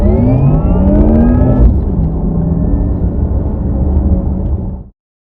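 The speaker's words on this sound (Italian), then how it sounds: "sentirete il vero sound elettrico dell'auto, che è differente da altre auto elettriche" A Porsche Taycan all-electric car drives with a rising electric motor whine over a steady road rumble, loud and close, then cuts off abruptly near the end.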